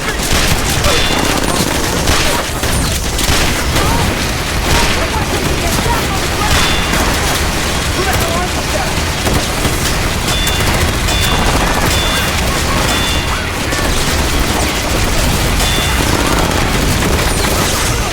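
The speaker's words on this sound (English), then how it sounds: "A fierce shootout erupts between Homeland Security and Billy's crew" Continuous, loud video game shootout between security forces and a crew, dense overlapping gunfire and booms filling the whole stretch without pause, with voices buried in the din.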